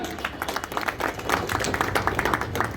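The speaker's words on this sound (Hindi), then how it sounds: "एक बार जोरदार तालियां इनके लिए" Applause at a railway mail service union convention: a crowd in a hall claps in a dense, sustained patter of many overlapping hands, steady and fairly loud throughout.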